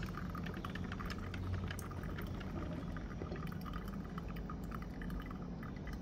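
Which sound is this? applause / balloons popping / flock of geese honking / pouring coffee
pouring coffee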